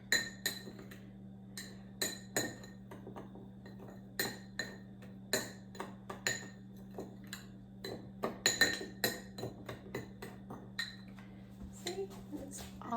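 Cinnamon is mixed into ingredients in a bowl for an apple cider donut cake, heard as sharp, irregular clinks of a utensil against the bowl over a steady low hum, with some louder clusters of quick taps.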